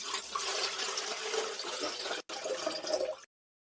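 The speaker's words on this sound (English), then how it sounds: "all that's left is to pour water into the kettle and check how it works" Water pours steadily into an electric kettle under repair for a faulty switch, a continuous close splashing rush that runs about three seconds with one brief break before stopping.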